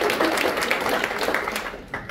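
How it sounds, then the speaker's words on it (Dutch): A small audience at a poetry slam event in a Rotterdam reading room claps for the performers, moderate, somewhat uneven applause heard fairly close. "even een applaus voor Poetry Slam"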